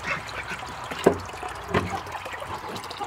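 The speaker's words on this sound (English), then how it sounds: "The ducks are so funny with their eggs." Ducks quack a few times near a small water pool, two sharp calls standing out over faint splashing and quiet background noise.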